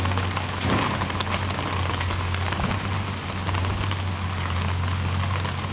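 Steady rain pours outdoors at a South Orange, NJ restaurant, a dense continuous hiss with a low steady hum beneath, loud and unbroken throughout with no talking.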